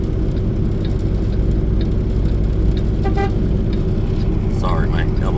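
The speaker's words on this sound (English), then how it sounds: "Sorry, my elbow hit the horn" A car horn gives one brief accidental toot inside a vehicle, set against a constant engine and road rumble, followed by a couple of short sounds near the end.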